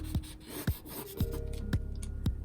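A colored pencil scrubs color onto paper in quick, soft, rhythmic rubbing strokes, close and faint.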